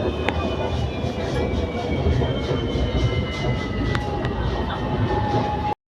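Kuala Lumpur LRT train ride heard from inside the car: a loud, steady rumble of wheels and motor with faint tonal whines and a few clicks, cutting off abruptly near the end.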